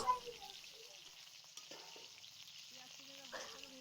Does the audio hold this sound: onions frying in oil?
yes